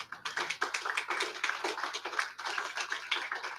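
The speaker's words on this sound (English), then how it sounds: "she needs a round of applause." A small audience at a genealogy society gathering applauds its longtime secretary, a fairly sparse patter of clapping hands with distinct individual claps in a loose rhythm lasting a few seconds.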